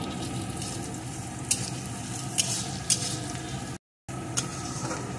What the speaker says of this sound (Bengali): এখন এগুলোকে একটু ভেজে নেব